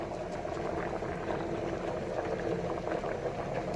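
Soaked Maggi noodles sit in a steamer over boiling water, which gives a continuous bubbling, hissing roil at moderate level and no talk.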